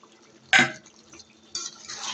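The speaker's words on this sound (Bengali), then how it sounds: "নাড়াচাড়া করব।" Chicken curry with small local potatoes stirred in a pot: a sharp scrape of the spoon, then quieter scraping and a soft wet sizzle, close and brief with no talk.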